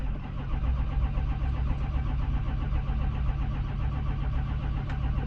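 A Ford F-350 diesel engine cranks over continuously, a steady low rhythmic churning drone at close range, loud and unbroken with no talk.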